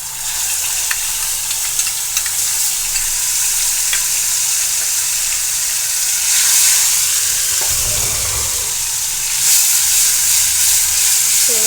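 Ginger, garlic and coriander paste with turmeric sizzles and fries steadily in hot oil in a pan for a Maharashtrian hadga pod vegetable, a continuous close hiss with occasional stirring scrapes and no talk.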